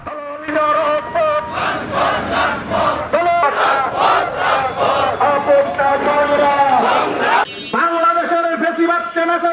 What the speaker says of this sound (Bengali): মিছিল থেকে তারা ঢাকার জাতীয় সমাবেশ সফল করার জন্য স্লোগান দিতে থাকেন